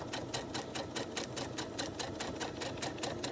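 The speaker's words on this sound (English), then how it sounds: "I'm just going to sew a straight stitch all the way across." Sewing machine running a straight stitch across fabric, a fast, even rhythmic clatter of needle strokes that stays steady throughout, close and fairly quiet with no talking.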